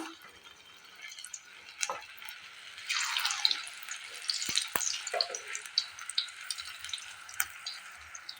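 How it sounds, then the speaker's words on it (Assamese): Taro flowers deep-frying in hot oil in a wok give a steady broad sizzle with bubbling crackle, louder from the midpoint on, with a few faint clinks and drips scattered through. "এয়া মোৰ দ্বিতীয় কচুৰ ফুলখিনিও এইদৰে ভাজি ৰেডি কৰি ল'লোঁ।"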